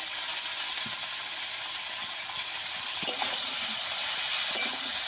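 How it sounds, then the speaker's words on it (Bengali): Potatoes and plantain sautéing in a pan with turmeric powder, a steady close sizzle and hiss throughout with a few soft stirring knocks and scrapes. "হলুদ গুঁড়ো দিয়ে আর একটু ভালো করে কষিয়ে নেব।"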